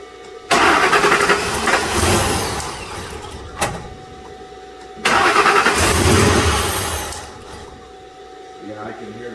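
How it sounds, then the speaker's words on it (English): A 2007 Ford F150 with a 4.6 engine cranks in two long bursts while a spark tester on the ignition coil snaps sharply, the ticks buried in the loud churning of the starter. "Yeah, I can hear the spark."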